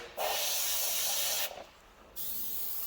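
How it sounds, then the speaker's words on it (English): Spray paint hisses onto a canvas in two long, loud bursts, the first running about a second and a half. A short quiet gap separates them. "It's going to be a continuous spray."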